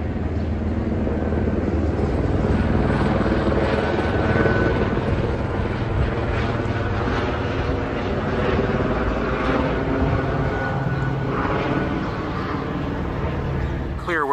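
A DC police helicopter's loud, continuous rotor thrum and engine roar fill the scene, steady and close overhead above a barricade situation, with faint talk mixed underneath.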